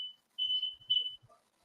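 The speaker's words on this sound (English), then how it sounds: "It was a smoke alarm." A smoke alarm set off by a roommate's incense chirps in short, shrill high-pitched beeps, a brief tone followed by two longer bursts, fairly faint in an otherwise quiet room.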